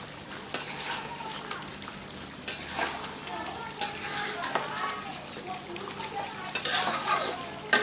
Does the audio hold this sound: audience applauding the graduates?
no